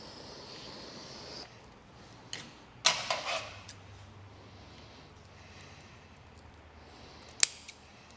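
A motorcycle wiring loom on an FXR build is snipped with a few sharp cutting clicks. Each one is brief, crisp and close, with quiet pauses between them and no talking.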